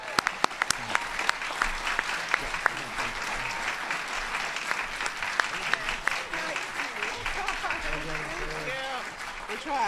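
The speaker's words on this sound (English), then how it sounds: "could you give her a really loud round of applause" An audience at a Pennsylvania event gives sustained applause for a woman named Kaylee, steady dense clapping with a few sharp nearby claps, and a voice speaking over the end.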